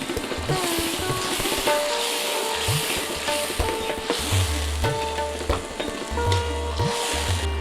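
Spice paste bubbles and sizzles hard in a pan after water from rinsing the blender goes in, a dense crackling hiss with steady spattering pops and a few soft stirring knocks, close and continuous.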